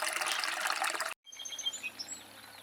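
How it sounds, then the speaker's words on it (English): Water from a bioreactor outlet tile runs into Big Creek outdoors, a steady trickling flow that cuts out abruptly and comes back quieter, with faint bird calls over it. "this is where the outlet discharges into Big Creek"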